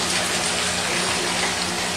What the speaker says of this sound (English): this manifold is actually now filling up these grow beds